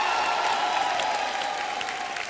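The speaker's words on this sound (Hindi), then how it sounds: "जोरदार तालियां" Studio audience at a television comedy show claps in a brief, steady burst, with a sustained tonal hum running underneath the applause.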